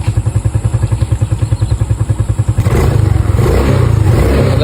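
Motorcycle being shown for sale: engine idles with a steady, loping low thump, then revs up into a louder, rougher sustained roar, close to the listener, with no talking.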